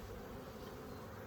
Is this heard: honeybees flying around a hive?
yes